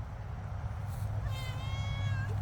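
A cat meows a couple of times, close by and fairly clear, the second call a drawn-out tonal meow, over a low background rumble with no talk.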